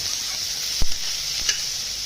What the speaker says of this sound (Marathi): छान असं परतून घ्यायचं कांदा